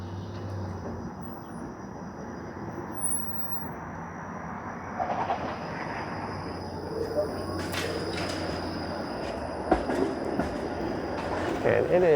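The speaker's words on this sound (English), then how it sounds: "the streetcar is turning right here" A Toronto streetcar turns at Dundas Street East, its wheels squealing and screeching against the rails in rising bursts over steady street traffic noise, heard from a bicycle nearby and growing louder toward the end.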